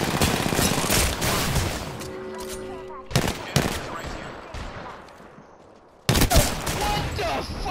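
Gunfire in the Apex Legends video game, with dense bursts of rapid automatic shots in loud clusters, broken by short pauses and one quieter stretch, while players talk over the shooting.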